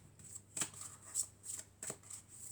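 Tarot cards being shuffled close by in a quiet room, a steady riffling texture broken by several sharp slaps of cards every half second or so, no talking.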